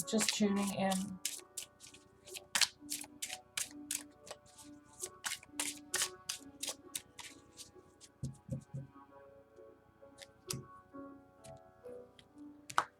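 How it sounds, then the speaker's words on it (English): Tarot cards are shuffled by hand in quick, crisp riffling bursts that tick and snap irregularly over about thirteen seconds, close and fairly quiet, over a low steady hum. "One more shuffle."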